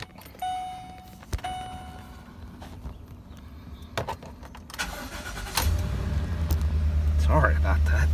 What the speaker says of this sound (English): I have a hell of a time cranking a car when I got a camera in my hand.